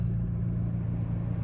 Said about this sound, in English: it'll fire the engine up